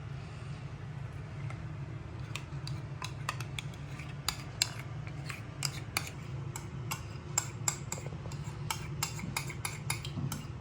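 Sisig stirred with its sauce in a pan, a run of light metallic clinks and scrapes of a utensil against the pan over a low steady hum, getting busier toward the end.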